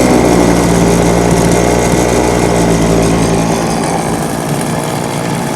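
An old chainsaw engine runs steadily at a fast idle that is set too high, a loud continuous buzzing drone that stays close and constant before easing slightly toward the end.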